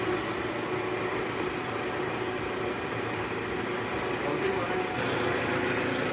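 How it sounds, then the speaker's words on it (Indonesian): An Alphard's engine idles smoothly and steadily, a constant even hum with no knocking or rattle, heard up close. "sekarang suara mesin jauh lebih halus"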